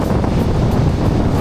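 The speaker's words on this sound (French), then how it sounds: "là je pense que vous entendez au micro que ça souffle" Strong wind buffets the microphone on a beach in Melbourne, making a loud, continuous low rumble with gusting surges throughout.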